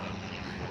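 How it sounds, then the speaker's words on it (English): A propeller airplane passes overhead on approach to Wilson Airport in Nairobi, a faint, steady engine drone with a broad roar, heard alone and at a distance. "That is a plane going to Wilson Airport."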